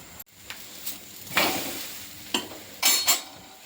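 Bottle gourd rotti cooking on a hot pan, with a soft steady sizzle and a few scraping, clinking utensil touches spaced through the short stretch, no voices.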